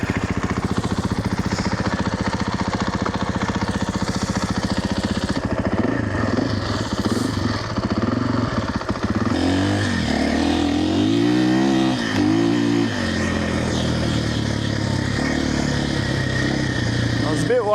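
A KTM 450 dirt bike, 2025 Champion Edition, ridden off-road. The engine drones steadily and close, then revs hard in rising and falling surges midway through before settling back to a rough, continuous run.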